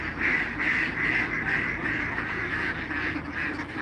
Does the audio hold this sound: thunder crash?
no